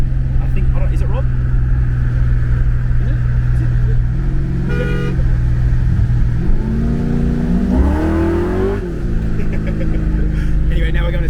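A drag car used as a daily driver cruises in heavy rain, its engine droning loud and close with a revving climb in pitch partway through, while people talk over it.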